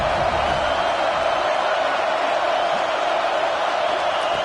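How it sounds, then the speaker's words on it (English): A stadium crowd in an NCAA college football video game roars in a steady, loud wash as the defense plays down in the red zone. "And the crowd coming to life here, trying to help this defense down in the red zone."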